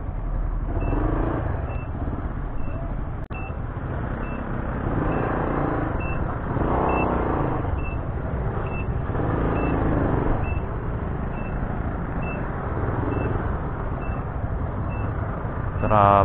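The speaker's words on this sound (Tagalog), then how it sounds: "Bakit traffic dito?" Road traffic of cars and trucks backed up at a police checkpoint during a quarantine lockdown, with a steady engine rumble and a regular series of high beeps throughout, plus voices talking in the background.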